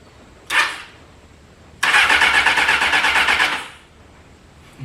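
A car engine cranks over on its starter: a brief whir, a pause, then close, loud, rhythmic churning for about two seconds that stops without the engine catching.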